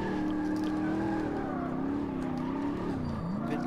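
A car drifting with the handbrake in Automobilista 2, a loud sustained engine drone with shifting pitch and a dip near the end, close and unbroken.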